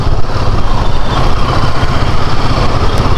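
A Yamaha MT-03 twin-cylinder motorcycle of about 296 cc idles loudly and steadily up close, a dense continuous low rumble with no break.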